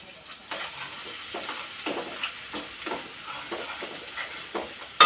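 Garlic frying in a pan while a crab dish is prepared: a steady close sizzle with rhythmic scraping stirs every half second or so, fairly loud, ending in a sharp clatter.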